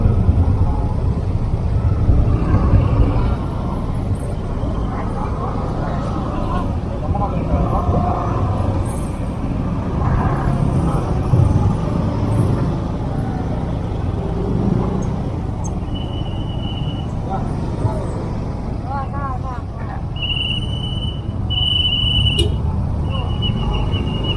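Heavy traffic jam on a city street in Indonesia, with a steady broadband rumble of idling and crawling cars and trucks, occasional air-brake hisses and a few brief high tones near the end, continuous and fairly loud throughout.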